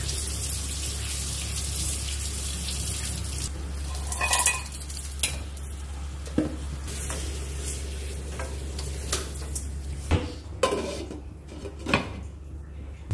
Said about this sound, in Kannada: ಈರುಳ್ಳಿ ಫ್ರೈ ಆದಮೇಲೆ ಚಿಕನ್ ಪೀಸಸ್ ಸೇರಿಸ್ತಾ ಇದ್ದೀನಿ